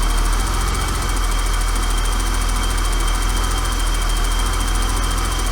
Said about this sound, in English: There is a bit of idle hesitation, but the RPM is more stable than it was before.